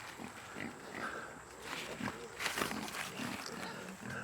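Kune Kune pigs grunting and snuffling close by while eating corn on a farm, a run of low rough snorts and squeals with faint background noise.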